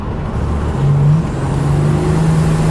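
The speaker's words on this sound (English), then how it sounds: "Hear it cutting out. Hopefully you can hear that turbo." A 1987 Buick Grand National turbo engine, heard from inside the car under boost, gives a loud, steady drone with a rising tone, wavering as it cuts out. No one speaks.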